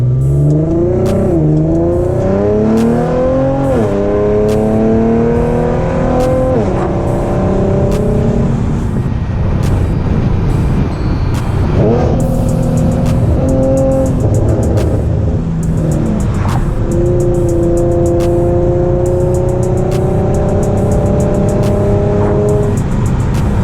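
Infiniti G37 sedan with a loud aftermarket exhaust heard from inside on a drive, the engine revving up through several gears with rising whines and throaty drone, then settling into steady cruising, close and loud with no talking.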